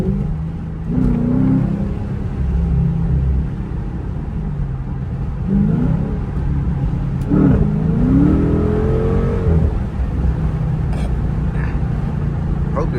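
A car fitted with a cold air intake accelerates on a highway, a loud rumbling engine with rising revving sweeps several times under steady road noise.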